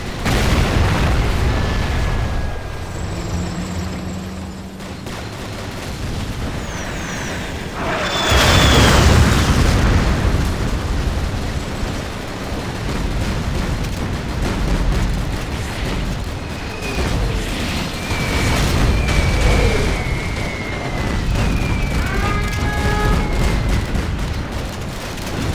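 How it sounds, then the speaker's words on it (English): A nuclear missile strike in the Command & Conquer Generals real-time strategy game sends a deep rumbling boom through dense battle noise, with continuous explosions, gunfire and whistling effects rolling on throughout, loud and layered. "We have launched our nuclear missile."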